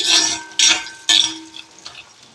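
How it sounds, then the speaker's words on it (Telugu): Whole unpeeled garlic cloves frying in a pan, stirred in three scraping bursts with metal-on-pan clatter over a steady close sizzle, then fading to quieter frying. "మధ్య మధ్యలో కదుపుకుంటూ ఉండాలన్నమాట వెల్లుల్లిపాయలు వేగడానికి కూడా టైం పడుతుంది"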